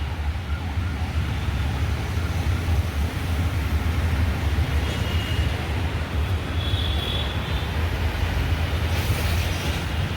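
A metro rail train runs beside Bijoy Sarani in Dhaka, a sustained low rumble over city traffic with a brief high whine near the middle and a brighter swell toward the end.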